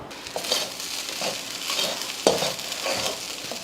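A spoon scrapes and stirs a paneer rice mixture in a pan, soft gritty strokes repeating at an uneven pace with a faint sizzle underneath and one sharper knock against the pan.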